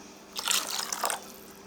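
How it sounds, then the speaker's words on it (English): A short splash of water pouring into a thick okpa batter, a brief wet gurgle lasting under a second, close and moderately quiet. "So I'm adding the water."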